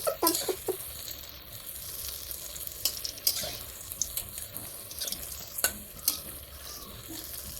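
Jackfruit batter fritters fry in hot oil, a steady soft sizzle with occasional clinks and stirring scrapes, close and fairly quiet, no talking.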